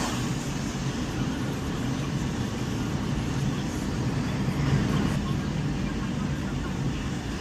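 A Mazda 3 GT rolling along a rainy road, with a steady broadband wash of tyre, rain and cabin noise that stays even throughout.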